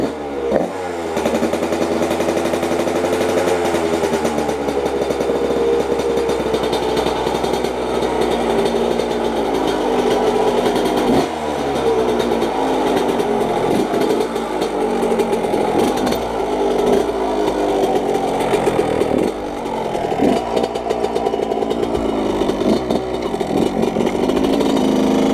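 A 125cc motorcycle engine runs steadily up close, its harmonic drone rising and falling through several revs and gear changes over about 25 seconds, with no talking.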